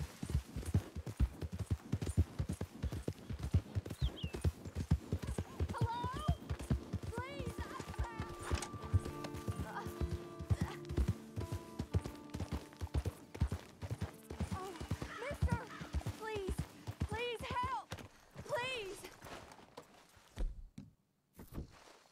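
A horse in Red Dead Redemption II moves at a fast gait, its rapid rhythmic hoofbeats running through most of the stretch before thinning out near the end, with voices talking over them at intervals.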